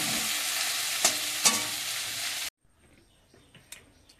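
Prawns and potatoes fry in a pan with a loud, steady sizzle for a couple of seconds, then the sound cuts abruptly to near quiet with a few faint clinks.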